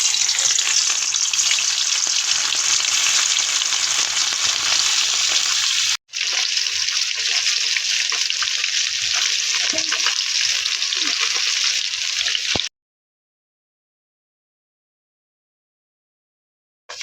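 Fish frying in hot oil in a pan, an intense, steady close-up sizzle that cuts out briefly, resumes, then stops abruptly into silence.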